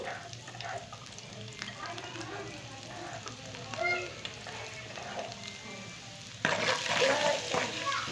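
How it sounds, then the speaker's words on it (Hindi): Chopped garlic sizzles in a hot frying pan for a coriander tomato chutney, a steady crackling fry with occasional stirring scrapes, then a louder burst of sizzle near the end; no talk is heard. "फ्राई पैन मैंने गरम कर लिया है। अब इसी में मैं थोड़ी सी 2 अदद जो लहसुन मैंने चॉप की थी वो डाल रही हूँ।"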